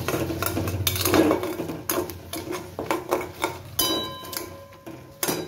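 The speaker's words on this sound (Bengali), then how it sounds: "শুকনো লঙ্কা, জিরে আর গোটা গরম মশলা দিয়ে ভালো করে একটু নাড়াচাড়া করে নেব" Dry chillies, cumin and whole spices stirred in a pan, with a spoon repeatedly scraping and clinking against metal in an uneven rhythm of sharp taps, close and alone.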